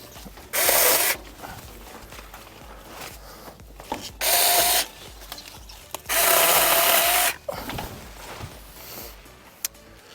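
A mini chainsaw cuts through thick weed stalks about an inch and a quarter across in three loud, close bursts of buzzing, each roughly half a second to a second and a half long, separated by quieter rustling and handling noise.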